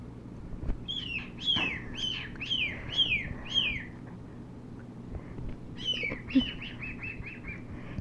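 A baby bird chirps close by in two quick bursts of repeated high, bright cheeps separated by a short pause.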